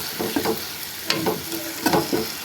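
Ground mushroom gravy paste sizzles and is stirred in a pan, soft frying hiss with a few scraping stir strokes at an irregular rhythm, close and alone.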